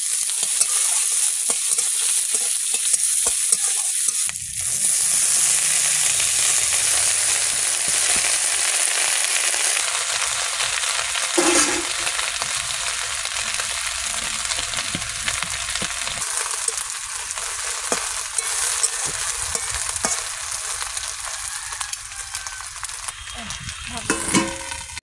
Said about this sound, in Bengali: এই পেঁয়াজ এই লাল হয়ে গেছে, এই নিয়ে পাকায় পাকায় এইভাবে ভেজে